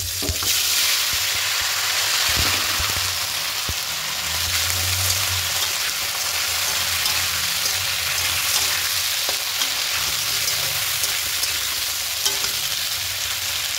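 Sliced potato and green banana frying in hot oil, a steady hissing sizzle with a few low thumps and stirring knocks, close and uninterrupted by speech.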